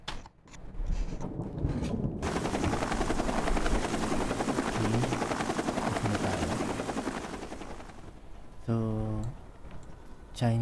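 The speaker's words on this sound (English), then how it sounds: "Pasakay muna tayo ng helicopter para makarating dun." Helicopter in the video game Undawn, a steady loud rotor roar with mechanical clatter through most of the ride, fading toward the end as a voice speaks briefly.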